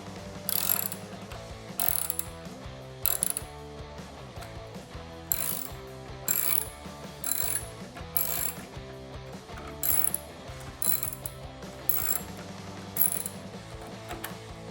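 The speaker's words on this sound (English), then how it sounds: "Remove the bolts on the passenger side headlight the exact same way." A hand ratchet works the passenger-side headlight bolts loose on a Jeep Wrangler JL, giving repeated bursts of metallic clicking separated by short pauses and heard up close.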